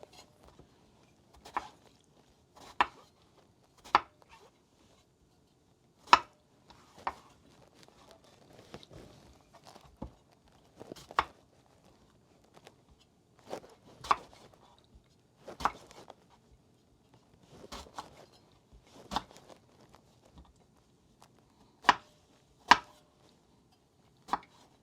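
Knife chopping Chinese eggplant or other ingredients on a board, about a dozen crisp, separate strikes at an irregular pace, close and fairly quiet, with no voice.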